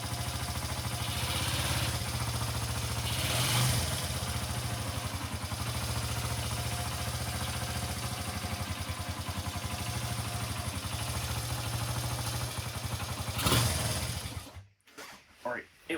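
A Honda XR80 motorcycle engine runs steadily in first gear with a touch of throttle, a close, continuous buzzing drone that cuts off abruptly near the end.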